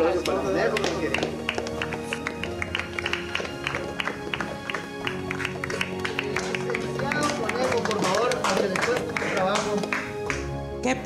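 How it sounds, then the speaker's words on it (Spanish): An audience at a charity telethon breaks into lively applause, dense rapid clapping from many hands that holds loud and steady for several seconds, mixed with voices and music in the hall. "Un aplauso, un aplauso para Tadeo"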